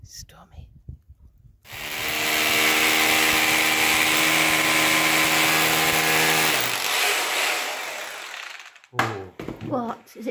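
A power drill with an undersized bit whirs steadily for about five seconds into a soft cottage wall, loud and close, then winds down; brief talk and rustling come before and after.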